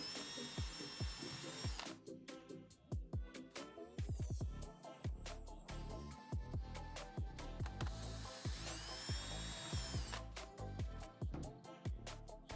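A power drill whines in repeated bursts with sharp clicks and knocks between runs, close and fairly loud, drilling small holes in 30mm PVC pipe.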